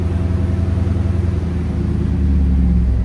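A Ford F-250 with the 7.3L Godzilla V8 and Borla exhaust rumbles close and loud, a deep pulsing burble that settles into a steady idle, with a slight swell toward the end.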